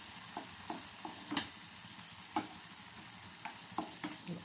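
A spoon scrapes and taps through carrot halwa in a pan as the sugar melts, a gentle sizzle under irregular stirring strokes, quiet and close with no talk.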